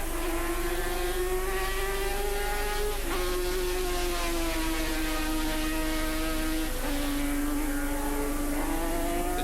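Racing sidecar motorcycles at Oran Park scream past as one loud, steady high-revving engine whine, dipping briefly at gear changes, with no talk.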